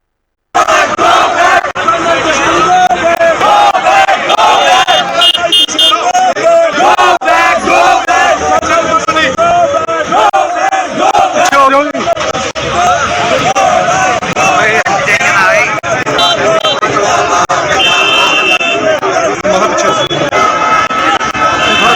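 A dense, agitated crowd shouts and chants around actress Kangana, loud and continuous for the whole stretch, with overlapping voices and bursts of yelling.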